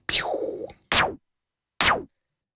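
Three sharp electronic snare hits, the first longer with a ringing tonal tail, the next two short, bright noise bursts evenly spaced.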